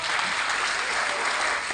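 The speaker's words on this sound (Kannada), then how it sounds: "ಚಪ್ಪಾಳೆ ಬರಲಿ ಈ ಕಡೆಯಿಂದ" Dense, steady applause from a school function audience fills the whole moment at close range, with a faint voice underneath near the start.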